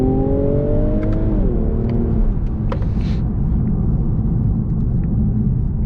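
A 2018 Infiniti Q60 Red Sport 400 launches from a standstill to 60 mph, its engine revving up and shifting with a falling tone before settling into a loud, continuous roaring rumble close up.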